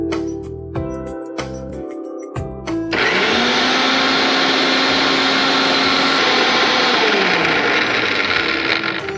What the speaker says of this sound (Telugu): అలాగే దీన్ని మిక్సీ పట్టేసుకుందాం